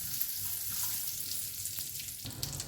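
Raisins frying in ghee in a pan for pumpkin halwa, a soft continuous sizzle with faint crackles, quiet and close, with a brief stirring scrape near the end.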